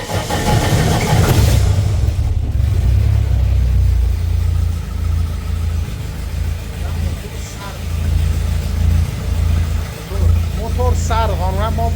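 A homemade helicopter's engine warms up with a steady low drone and mild vibration, a voice talking over it throughout.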